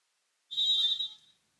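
A referee's whistle sounds once at a volleyball match, a clean, shrill blast of under a second that tails off quickly against near silence.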